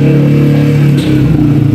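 A Honda 125 special edition motorcycle pulls away, its mid-pitched engine loud and close with a steady drone that shifts slightly as it moves off.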